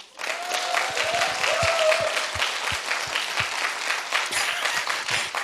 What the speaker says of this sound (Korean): 남성 목장 박수